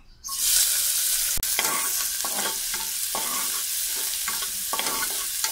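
Finely chopped onion dropped into a spoon of hot oil for a tempering bursts into a loud sizzle, then hisses steadily with bubbling crackles and stirring, close and alone.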